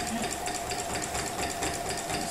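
Sewing machine running for free-motion quilting in the ditch, a close, steady mechanical hum with a fast needle rattle running continuously without pause, and no voice over it.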